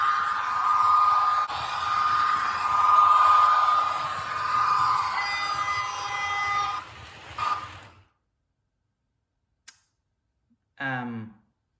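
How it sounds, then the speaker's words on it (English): Märklin model train pulling mail and luggage coaches runs steadily for about eight seconds with a whirring, rattling rumble, then stops, followed by a faint click and a short burst near the end. "So the train's going now."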